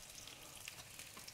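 Sliced garlic and chopped thyme fry in a pan, a steady close sizzle with soft crackles throughout.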